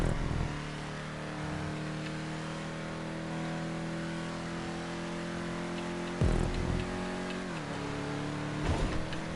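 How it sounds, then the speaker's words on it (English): Race car in GTA V on PS5 holding a steady engine drone, then an abrupt gear change around the middle with a jump in engine note, followed by renewed revving. "You can hear the car shifting on its own."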